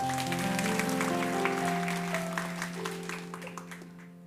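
Applause fills a church service after a baptism of 46 people, a broad crowd clapping over sustained organ or keyboard chords that gradually fade and thin toward the end.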